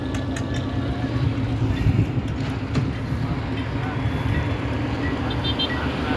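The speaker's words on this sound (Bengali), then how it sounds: "তল থেকে একটি বোট যাচ্ছে।" A boat passing on the water near Alipur at night, a steady low engine drone rumbling under brief clicks and a few faint high tones.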